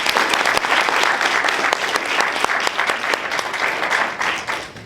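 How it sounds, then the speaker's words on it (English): Audience applause for startup pitches at a university startup challenge event, loud and close, with many sharp individual claps in a dense sustained burst that thins slightly toward the end. "can we give them all one more round of applause?"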